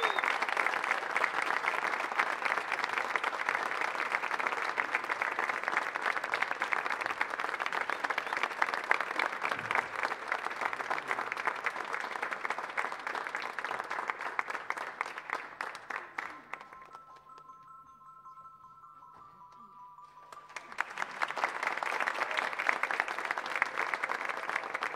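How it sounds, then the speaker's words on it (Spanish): Loud, sustained applause from a concert audience at a tenth-anniversary show, fading to near silence midway before a second swell of clapping rises again. "Un fuerte aplauso para él."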